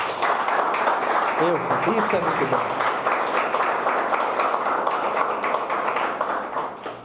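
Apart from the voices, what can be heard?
congregation applauding in church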